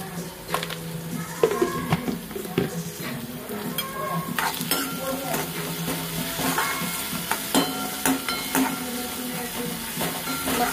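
Onion sautéing with garlic in a pan for a home pasta recipe, a soft steady sizzle broken by repeated scraping stirs of a spoon, close and fairly quiet.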